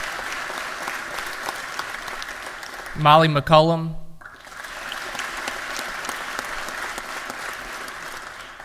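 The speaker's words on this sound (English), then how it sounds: "Let's give them each a round of applause." A short burst of applause from people in a legislative session breaks out in the middle, clapping for a few seconds before quieting, while a single voice reads out names over a quiet room.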